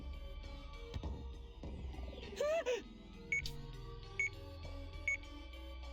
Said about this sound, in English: a ringing sound came from the device around his wrist